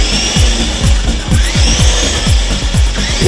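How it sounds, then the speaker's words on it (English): A HoverLite toy helicopter's tail rotor spins up: a loud, steady whirring motor drone with a rapid, regular pulsing chop, heard alone and close. "now when I spin this up, we've got tail rotor"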